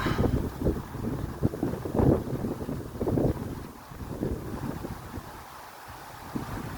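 Wind gusting across an outdoor beach soccer stadium at Cap-Roux, a steady rushing buffet on the microphone with irregular stronger gusts, continuous and fairly loud with no voices.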